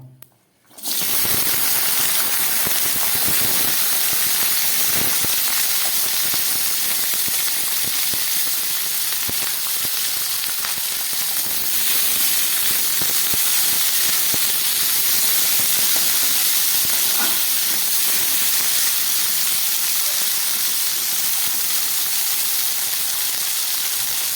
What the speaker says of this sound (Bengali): বিনসগুলোকে একটু ভেজে নেব।